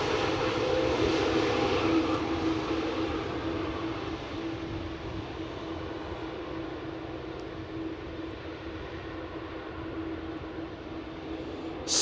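A jet airliner arriving on runway 18R Polderbaan at Amsterdam Schiphol, a steady broad roar that stays fairly loud across the whole stretch, fading slightly toward the end with no voices over it.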